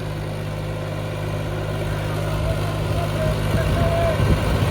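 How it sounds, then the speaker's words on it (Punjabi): A small tractor engine idles close by, a steady low drone with a constant hum, growing slightly busier toward the end as other faint activity joins it. "ਦੇਖੋ ਛੋਟਾ ਜਿਹਾ ਟਰੈਕਟਰ"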